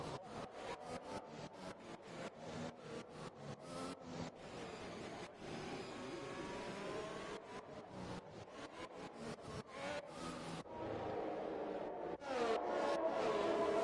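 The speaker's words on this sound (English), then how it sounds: "So we're underway for the formation lap" Formula 1 race cars in F1 2021 roll around the Baku street circuit on the formation lap, a steady, fairly quiet engine drone with repeated rising revs and gear shifts, no talk over it.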